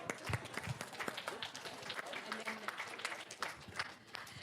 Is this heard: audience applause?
yes